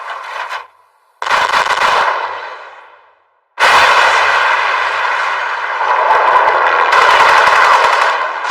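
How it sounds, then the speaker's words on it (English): Repeated artillery fire in an anime battle scene, loud bursts of rapid booming shots in several volleys separated by brief pauses, with no talking. "Continue firing on the target."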